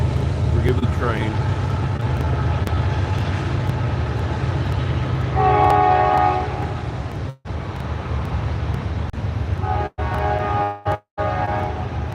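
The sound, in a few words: train passing with horn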